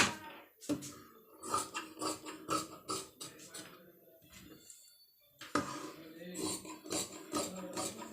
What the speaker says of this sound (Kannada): ಇವಾಗ ನಾನು ಇದನ್ನು ಕಟ್ ಮಾಡ್ಕೋತೀನಿ